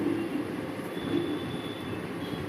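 A train runs along the rails, a steady low rumble with a faint high squeal, continuous and close, as heard from on board.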